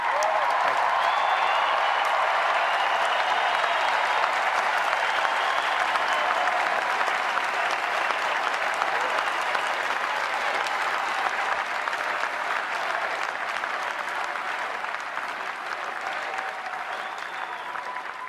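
A large political convention crowd cheers and applauds steadily, a dense, loud wall of clapping and shouting that holds for the whole stretch and eases slightly toward the end.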